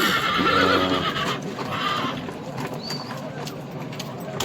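A horse whinnies near the start amid a busy outdoor crowd at the Özgön livestock market in Kyrgyzstan, with people talking throughout and faint hoof and animal noises in the background.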